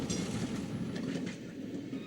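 Tram rolling along city rails in St. Petersburg on a white night, a steady close rumble with faint wheel clatter and no talk.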